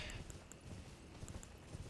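Rhythmic clip-clop of a horse's hooves in the video game Elden Ring, a quick even series of hoofbeats over a low rumbling game soundscape, faint and mixed with other in-game sounds.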